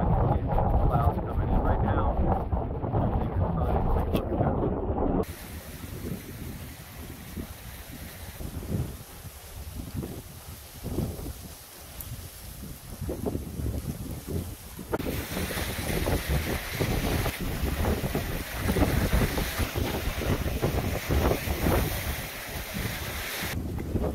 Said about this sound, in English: it's sunny, but it's like 35 mile an hour wind